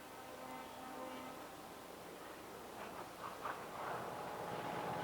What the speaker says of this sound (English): The diesels that will take her to Halifax cross the yard.